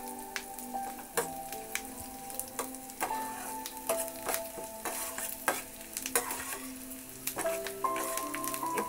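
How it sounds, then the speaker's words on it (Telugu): Onions crackle and sizzle steadily in hot oil nearby, with frequent pops and the occasional scrape of stirring. "ఉల్లిపాయలు మరీ ఎర్రగా వేగకల్లా కొంచెం మెత్తపడితే చాలు"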